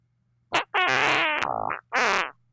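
A long, strained fart with buzzy, wavering tone, sounding like a voice imitation, broken into three bursts: a short blip, a sustained rasp that dips and slides, then a final shorter blast, all close and loud.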